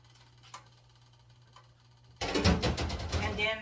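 Water from a cup pours into a cooking pot of Chinese beef and tomato, a loud, close, steady splash and gurgle that starts abruptly and runs for about a second and a half after a quiet stretch.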